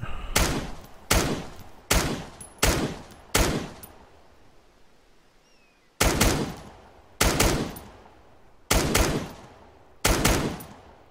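Loud, close gunfire in the military video game Arma 3: five sharp shots in an even rhythm, a pause of about two seconds, then five more shots, each cracking and echoing before the next.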